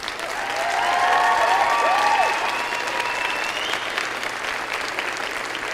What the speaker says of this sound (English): And now I invite you, the members of the graduating class, to reciprocate by applauding your family, friends, faculty and staff,